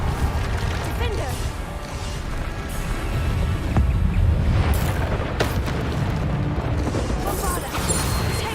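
Repeated booming spell blasts from Bombarda explosions in Hogwarts Legacy, loud and dense with crashes and rumbling impacts layered over continuous game noise, while a player calls out spell names throughout.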